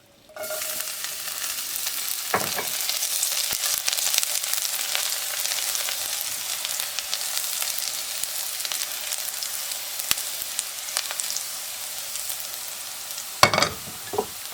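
Garlic frying in oil for mujaddara, a steady close sizzle that runs throughout with occasional stirring clinks.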